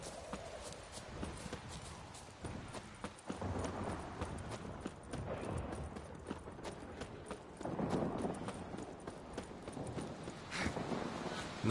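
A purebred warhorse in a video game clip-clops steadily at a walk, soft hoof knocks repeating under a dense, hissy background, fairly quiet and distant.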